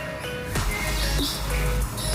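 A canary with a hoarse voice gives a few short, rough chirps and tweets, close and fairly loud, set against a low background rumble.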